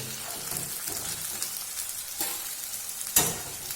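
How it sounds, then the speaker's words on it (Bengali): Long beans sizzling and frying in a hot pan, a steady crackling hiss with a few sharper spits and scrapes of stirring. "আমি আর একটু ভেজে নিয়ে এটাকে আমি নামিয়ে নেব।"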